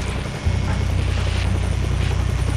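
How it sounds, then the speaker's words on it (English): A military helicopter lifts off from a helipad in Splinter Cell Blacklist. A loud, close rotor thrum carries a fast, steady chop over a continuous turbine whine, with no voices. "requesting permission to lift off from chopper pad Alpha Niner."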